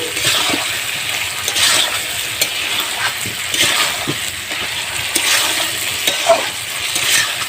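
Duck meat stir-fried in a pan over a clay stove, with repeated scraping stirs through a steady sizzle, close and fairly loud.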